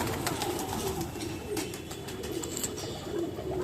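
Pigeons coo softly in a few low, repeated calls over a steady background hiss, fairly faint and somewhat distant.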